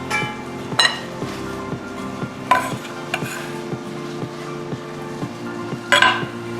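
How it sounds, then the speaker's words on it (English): A utensil stirs mustard dressing with herbs in a bowl, giving repeated light clinks and scrapes against the bowl at an uneven pace, close and fairly quiet. "So we're gonna stir this all together."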